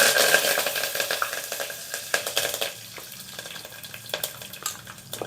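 Curry leaves, bay leaf, fennel, cinnamon, cloves, mustard seeds, cumin and onion fry in hot oil with a steady close hiss and crackle, broken by occasional spatters and utensil scrapes.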